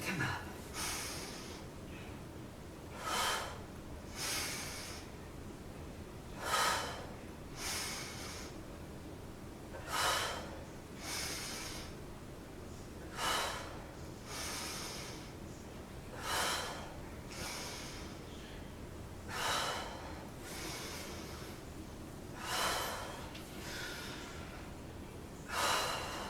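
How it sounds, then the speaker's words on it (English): Heavy rhythmic breathing during a strength workout with hinge-and-lower reps, faint and steady, with sharp breaths recurring every couple of seconds across the whole stretch. "Inhale down, exhale to come up."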